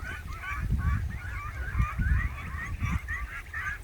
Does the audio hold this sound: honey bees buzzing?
no